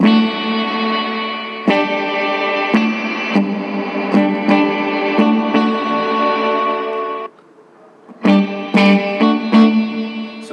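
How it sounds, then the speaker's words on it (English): Electric guitar played through a Boss RV-5 pedal on its hall reverb setting, sustained chords ringing with a long spacious tail, a brief near-silent gap, then strummed chords resuming loud and washed in reverb. "mas malaki yung reverb effect pag hall compared sa room"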